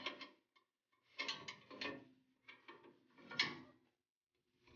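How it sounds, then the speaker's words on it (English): A quarter-inch screw being unscrewed from a furnace flame sensor: faint, close ratcheting clicks and scraping in several short bursts with pauses between. "So you just unscrew it."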